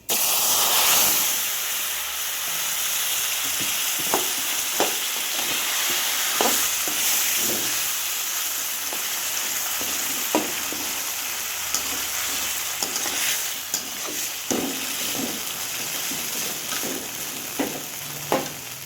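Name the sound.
taro leaves frying and being stirred in a pan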